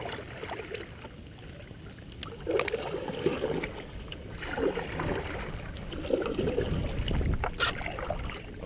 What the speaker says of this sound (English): I'm going to paddle around a little bit.